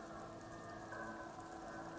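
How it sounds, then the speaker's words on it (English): Steady rain patters on wooden planks in the Disco Elysium game world, a dense, even hiss of droplets that holds at constant loudness throughout with no voices. "Droplets of rain fall on the wooden planks, the surrounding sand dunes."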